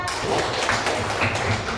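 Short classroom applause for a student, a dense patter of hand claps from a group of children, fairly close and steady throughout the brief moment.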